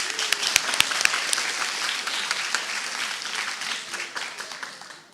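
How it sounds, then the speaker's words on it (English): A closing-ceremony audience at a school Model UN conference breaks into applause, sharp individual claps standing out at first before settling into a steady, moderately distant patter that thins toward the end. "Clapping is in order."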